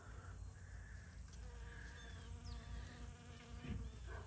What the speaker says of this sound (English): And here's some bee. Hear them buzzing.